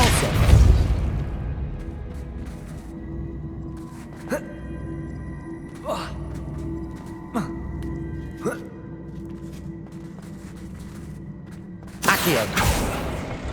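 Depulso repelling spells cast in the Hogwarts Legacy video game, heard as several sharp booming bursts spaced a second or so apart over a low steady hum, ending in a louder, denser blast.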